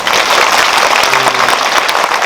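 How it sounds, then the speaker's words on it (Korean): Audience applause fills a cinema auditorium after a post-screening talk for the film 'The Juror' at Lotte Cinema World Tower, a dense, steady wash of clapping throughout with a faint tone briefly underneath. "박수 한번 부탁드립니다"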